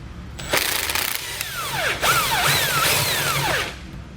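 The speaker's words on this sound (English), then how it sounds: "I'm going to hold the nut on the bottom while I loosen up the bolt." A tow bar bolt is loosened with a 3/4 inch socket and wrench, giving a loud, grinding metallic turning sound with rising and falling squeals as the bolt works free, close up and without voices.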